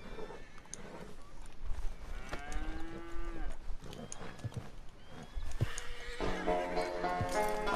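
A horse whinnies with a rising, wavering call in Red Dead Redemption 2, amid busy game sounds, hoof clatter and other animal noises, fairly loud and close.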